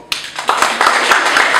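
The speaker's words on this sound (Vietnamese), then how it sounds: "hãy cho một tràng pháo tay" Audience clapping at an event honoring a Vietnamese coffee figure, starting abruptly and building from scattered claps into a fuller steady round of applause, loud and close.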